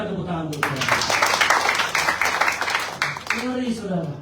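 A church congregation claps in a steady, dense patter for a few seconds while a preacher keeps talking over it.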